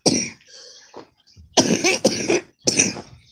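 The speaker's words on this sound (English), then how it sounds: "I'm having a coughing fit this morning." A harsh coughing fit from one person nearby: several bursts of rough, throaty coughs separated by short pauses, loud and close with no talking.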